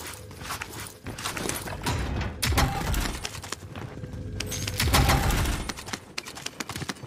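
Gunfire in a fast-paced online shooter match, a dense run of sharp repeated shots and impacts at steady loudness throughout, with busy game noise around them.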